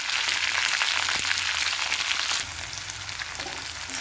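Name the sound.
sautéing cluster beans (guar) in oil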